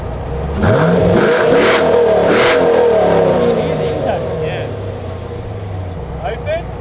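A car fitted with a Varex muffler in the closed setting revs up at a standstill, engine rising and falling in a few swelling pulls, fairly close, with people talking over and after it.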